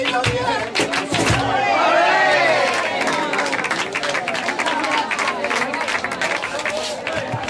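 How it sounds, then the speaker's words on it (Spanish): Flamenco palmas at the El Rocío pilgrimage, steady rhythmic hand clapping from a lively crowd, with voices singing and chattering throughout. "las horas transcurren lentas al compás de las palmas, entre sevillanas y rumbas"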